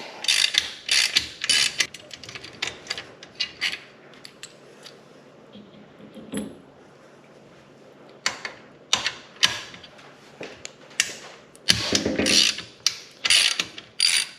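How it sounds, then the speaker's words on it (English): A ratchet wrench loosening the foot peg bracket bolts on a KLX110 dirt bike gives repeated bursts of close, crisp clicking, broken by short pauses with no talk. "Now we can take off the bolts that hold the foot peg bracket on and the back half of the skid plate."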